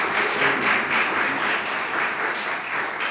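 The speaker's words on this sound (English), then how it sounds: "let's give a round of applause" Audience at a college talk giving a round of applause, many hands clapping in a full, steady roar with slight swells, loud and continuous throughout with no voices on top.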